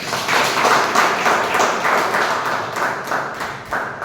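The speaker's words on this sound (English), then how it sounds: "Can we have a huge round of applause for that?" Members of a Toastmasters club applaud a ten-year milestone at a meeting, a full round of clapping from a room of people that swells early and then tapers slightly with scattered sharper claps toward the end.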